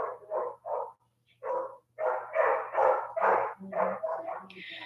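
A pet dog barks repeatedly in a home, a run of close, loud barks and yips in uneven bursts, some clustered tightly together, with a faint steady hum underneath.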